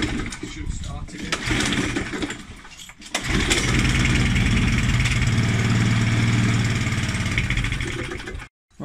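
Challenge Xtreme XSS40A lawn mower engine sputtering, then catching and running with a steady loud mid-pitched drone for several seconds before cutting out abruptly, close by.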